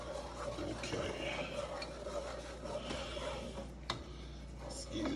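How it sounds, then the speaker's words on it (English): A spatula scrapes and stirs food in a pot over medium heat, a steady rasping shuffle close by with a faint clink near the end. "Go and keep stirring that, Cal, if you would."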